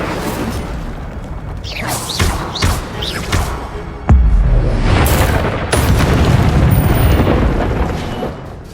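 An Incendio fire spell in the Hogwarts Legacy video game: whooshing casts and swells lead to a sudden sharp blast, followed by a loud, sustained roaring, throbbing burn that slowly fades.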